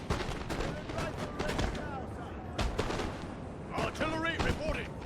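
Napoleon: Total War 6-pounder artillery cannons fire in scattered booming shots amid busy battle noise, with voices heard now and then.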